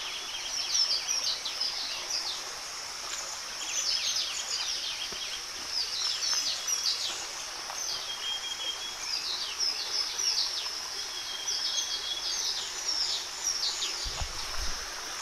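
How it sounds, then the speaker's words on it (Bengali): Several kinds of birds chirp and call in a quiet North Bengal woodland at Jhandi, their bright overlapping tweets steady throughout, with a soft rush of flowing water beneath and no talking. "এখানে 5 প্রকার পাখি আমার কানে শুনে মনে হলো 5 প্রকার পাখি ডাকছে।"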